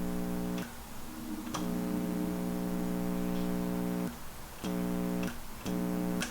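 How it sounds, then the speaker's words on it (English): Steady electrical hum from a garage shop light, a low buzzing drone with stacked harmonics that runs continuously and cuts out briefly a few times, with faint ticking clicks at the breaks and no talking. "the shop light makes some noise"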